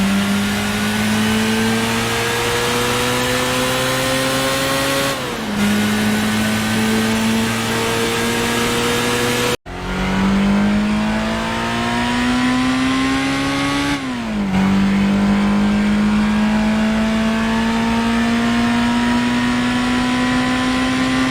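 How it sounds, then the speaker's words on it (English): A first-generation Mazda MX-5 in Gran Turismo, sharing its sound with the 1963 Alfa Romeo Giulia Sprint's 1.6-litre inline four, drones loudly through rising gears, with pitch climbing steadily and dropping at each shift. "the majority of the first generation Mazda MX-5s all have the same engine sound as the Alfa Romeo Giulia Sprint from 1963"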